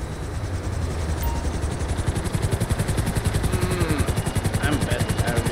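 Helicopter in GTA Online flying close by, a loud continuous engine roar with the rapid rhythmic chop of rotor blades growing more pronounced partway through.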